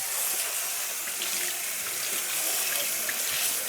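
Water runs steadily from a tap over a pan that has been scrubbed of rust with baking soda, a close, continuous splashing hiss with no pauses.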